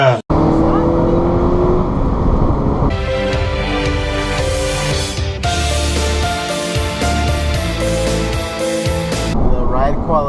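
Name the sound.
2014 Honda Civic Si accelerating on the road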